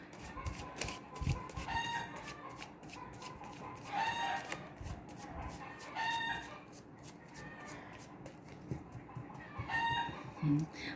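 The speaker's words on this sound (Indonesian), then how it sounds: "Maaf ya agak berisik, ayam-ayam tetangga." Neighbours' chickens cluck steadily while roosters crow several times, some crows near and loud, others farther off.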